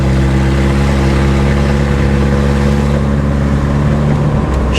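A 1991 Plymouth Colt Vista with a Mitsubishi 4G63 engine and 74K miles drives loud and close, its steady low engine drone pulling through third gear with a slight pitch change near the end.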